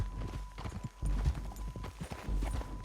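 Horse hooves clip-clop in a steady trotting rhythm in Red Dead Redemption 2, close and fairly loud, with a faint steady tone underneath.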